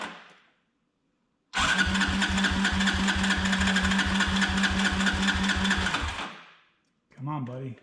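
A Honda TRX ATV engine cranks on the starter in a fast, rhythmic churning burst lasting several seconds, close and loud, then stops without catching; a voice speaks briefly before and after.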